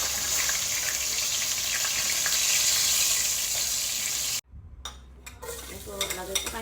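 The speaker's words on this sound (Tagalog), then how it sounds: "balik na rin po natin ang ating pinipritong talong" Sliced eggplant goes back into a frying pan. A dense, loud sizzle cuts off abruptly, then sharper stirring clinks and crackles build back up, with no voices.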